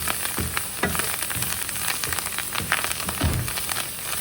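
Ingredients with curry leaves sizzle steadily in a hot pan while a spatula scrapes and stirs in irregular strokes, close up with no voices.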